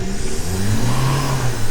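A car engine revs hard with the tyres spinning, a loud, sustained roaring whine that climbs and wavers in pitch close by, with no talk over it.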